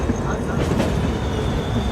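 A Howrah-Suri (Hool) Express train rolls toward the yard after finishing its run, giving a steady, continuous rumble of wheels and carriages close by with no breaks.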